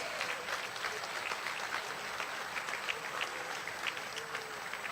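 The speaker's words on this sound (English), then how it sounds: "please give a round of applause to our gold medalists." A crowd at a university convocation on a cricket ground applauds steadily, dense clapping that holds at an even level throughout with no pauses.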